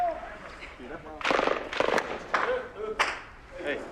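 Mortar rounds land during fighting against the Taliban in Afghanistan, several sharp, booming blasts spaced a second or so apart, fairly close, with voices talking in between.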